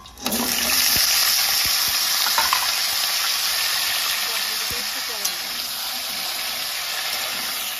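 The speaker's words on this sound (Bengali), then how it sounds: "সবজিগুলোকে ভেজে নেবো, তেল দিয়ে দেবো।" Potato, pumpkin, carrot and beans frying in hot oil for khichuri on a rainy day, a loud, steady sizzle that flares as the vegetables hit the pan, with a few scraping stirs and occasional clinks.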